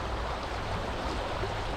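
River water flows steadily in a forested river setting, a continuous broadband rush heard close and moderately loud, with no voices over it.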